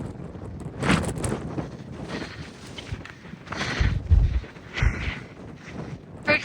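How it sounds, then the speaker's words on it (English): Strong wind buffets the microphone on the Pacific Crest Trail in gusty, thumping bursts and rushes, loud and uneven throughout. "The wind is insane."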